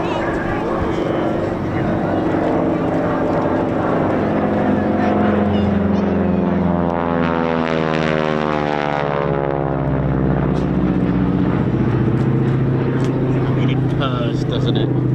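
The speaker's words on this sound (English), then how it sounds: "And here it is, the Harvard 2B from the Rolls-Royce Heritage Flight." A Harvard 2B propeller trainer of the Rolls-Royce Heritage Flight passes at an RAF Cosford air show, its loud radial engine drone swelling with a clear pitch shift as it flies by, under continuous commentary.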